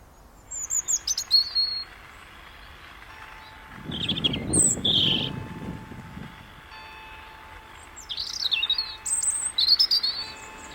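Birds chirp along a hedge of native species on an allotment, bursts of high tweets in short phrases near the start and again near the end, with a low rumble swelling in the middle and no talk.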